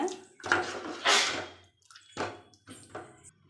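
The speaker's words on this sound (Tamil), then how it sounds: "குழம்புக்கு தேவையான அளவு தண்ணி நான் சேர்த்துட்டேங்க" Water splashes into a pan for fenugreek curry in a few short bursts, separated by brief pauses, close and fairly loud.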